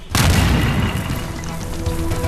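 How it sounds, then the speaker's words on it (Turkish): A cannon fires in a physics demonstration, one loud, close boom bursting out at once and rolling on as a long, dense rumble that does not die away. "Top ateşlendikten sonra geri tepti."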